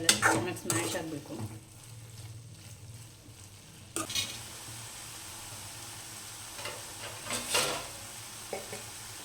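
Tomatoes sizzle and fry in a pan while being stirred and mashed, with scraping and clinking of a utensil against the pan, louder bursts at the start and again near the end over a steady hiss.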